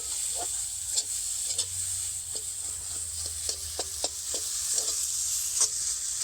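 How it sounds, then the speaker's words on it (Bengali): Potato filling for tomato chops being stirred in a new wok, a steady soft sizzle broken by repeated scraping and tapping of the spatula, close, with no talking. "আলুর পুরটাকে এরকমভাবে কড়াইতে নেড়ে নেড়ে না বেশ একটু শক্ত শক্ত হয়ে যায় পুরটা"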